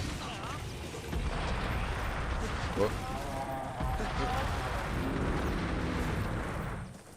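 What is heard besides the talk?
Switch Axe explosion attack in Monster Hunter Generations Ultimate video game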